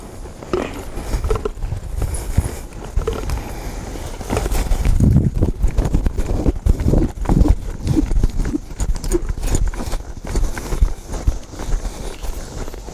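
Hooves of a cutting horse clip-clopping on dirt as it works a cow, a quick, irregular run of close, loud thuds.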